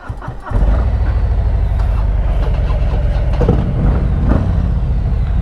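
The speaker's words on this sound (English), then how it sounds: "these Rhinehart Racing pipes sound so freaking good" A loud, deep Harley-Davidson Street Glide engine with Rinehart Racing exhaust pipes rumbles steadily after a brief start, its throaty exhaust droning close by with slight rises in revs.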